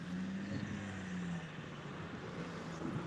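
Rally car approaching the finish line, a steady distant engine drone with a faint low tone that holds under a broad wash of outdoor noise, no talk.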